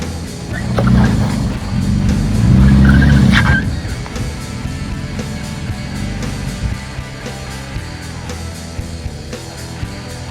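Two Toyota Tacoma 4x4 trucks on 34-inch tires climb the rocky Elephant Hill trail, a close engine growl that swells loudly for a few seconds then settles into a lower rumble with scattered crunching and scraping over rock.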